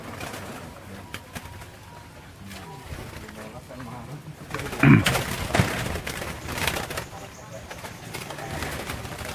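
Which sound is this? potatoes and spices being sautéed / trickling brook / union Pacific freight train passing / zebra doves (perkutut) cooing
zebra doves (perkutut) cooing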